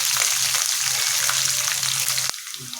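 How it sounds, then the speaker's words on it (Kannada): Finely chopped green chillies, three of them, fry in hot oil with curry leaves in a pan for poha, a steady loud sizzle and crackle that drops off abruptly near the end. "ಅವನ್ನ ಹಾಕ್ಕೊಂಡು ಮೆಣಸಿನ್ಕಾಯಿ ಫುಲ್ನ ಫ್ರೈ ಮಾಡ್ಕೊತೀನಿ."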